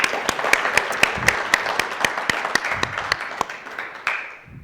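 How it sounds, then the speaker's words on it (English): Close, crisp applause from a small audience after a talk on end-of-life planning, with a few loud individual claps standing out in an irregular rhythm before it fades away. "Can we give them a round of applause?"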